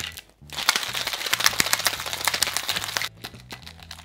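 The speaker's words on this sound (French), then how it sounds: "Et là, on va bien shaker, on va shaker fort parce qu'on a encore des cubes de cantaloupe qu'il faut venir réduire en purée." A cocktail shaker holding ice, cantaloupe cubes and vodka is shaken hard, producing a fast, loud rattling clatter of ice that stops briefly and then resumes, close by, with no speech.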